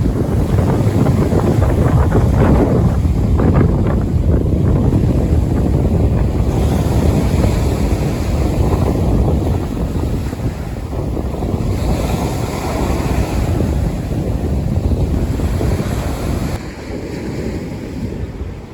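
Strong wind and surf pound a Prince Edward Island beach after Hurricane Fiona: waves crash and roll in continuously under gusty, buffeting wind noise, loud and close.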